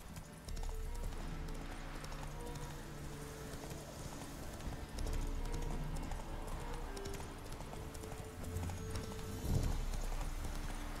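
Geralt's horse Roach gallops in The Witcher 3 with a quick, steady clip-clop of hooves, a brief whinny near the end, and game ambience behind it.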